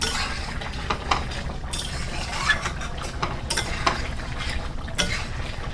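Mutton being sautéed and stirred (kashano) in a pot, a steady sizzle broken by rhythmic scraping sweeps and light metallic clinks of a spoon against the pot, close and even, without talking.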